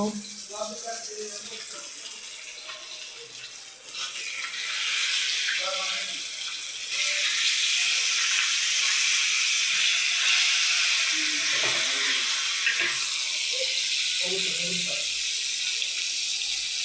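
Pabda fish frying in a pan, giving a steady, bright hissing sizzle that swells and stays loud throughout, with faint clinks and low voices speaking beneath.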